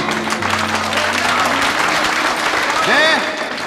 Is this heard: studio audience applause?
yes